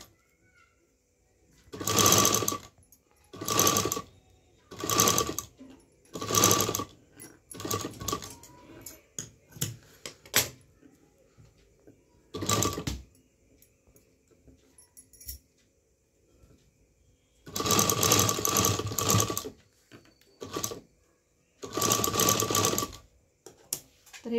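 A sewing machine stitches a piping strip onto a blouse in short, fast bursts of rattling stitches separated by pauses, close and loud, with a couple of longer runs near the end.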